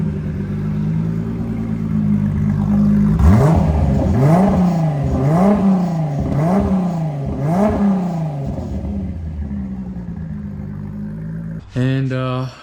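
A VR6 car engine idles steadily, then revs in five quick rising-and-falling blips before settling back to a loud idle; a brief sharp mechanical sound appears near the end.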